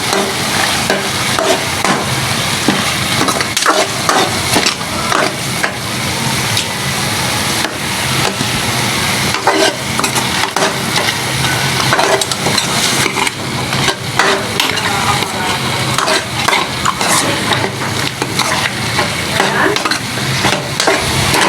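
Freshly ground cumin stirred into a smoky yogurt beef curry frying in a pan, a loud dense sizzle with constant scraping and stirring close up, no voices.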